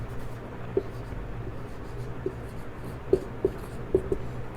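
Sparse taps and light strokes of writing on a board during a chemistry class on states of matter, a handful of distinct ticks spread over several seconds against a quiet room hum, no talking.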